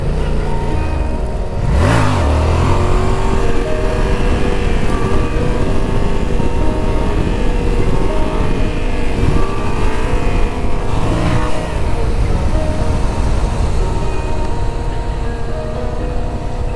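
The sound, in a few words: Yamaha XSR700 motorcycle revving during wheelie practice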